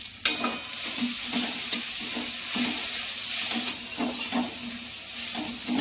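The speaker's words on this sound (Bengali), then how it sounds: "একটু ভালো করে নেড়ে একটু ভেজে নিলাম শাকটা" Leafy greens (shaak) stirred and fried in a pan, a steady sizzle and hiss under regular close scraping strokes of the spoon, roughly one every half second, without any talking.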